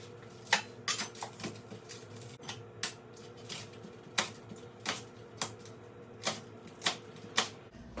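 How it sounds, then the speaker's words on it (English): A knife chopping an onion on a kitchen cutting board, a steady series of sharp, close taps at an even rhythm with no talking. "I'm now cutting up my onion"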